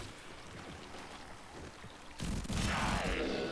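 Mortar fire striking players in Warframe, heard as a steady rumbling barrage that jumps into a louder, dense roar of blasts partway through.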